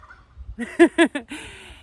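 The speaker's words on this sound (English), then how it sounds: "The turkeys are kind of far away, but I think you heard them" Turkeys on a Pacific Northwest ranch gobble, a short burst of rapid, rhythmic gobbling notes that sounds fairly close and clear against a quiet background.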